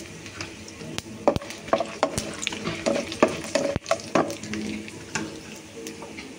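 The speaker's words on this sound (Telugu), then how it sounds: "వేరుశనగకాయ గుళ్ళు సగం వేగాక మినప్పప్పు, ఆవాలు, జీలకర్ర, 2 ఎండుమిర్చి వేసుకోవాలి." Peanuts, urad dal, mustard seeds, cumin and two dried red chilies fry in oil, with a soft sizzle under sharp clicks and scrapes of a spoon stirring in the pan.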